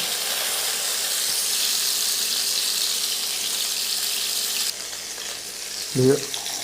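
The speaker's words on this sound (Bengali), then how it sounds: "দুপাশ ভালো করে ভেজে নিব।" Chicken sizzles and spits steadily in hot oil in a pan, a constant crackling hiss that quiets briefly near the end, followed by a short clatter.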